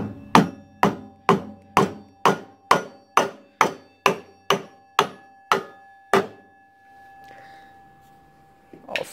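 A rubber mallet taps a pulley onto a snow blower shaft, about a dozen evenly spaced, close, solid knocks followed by a brief ringing pause and one final tap.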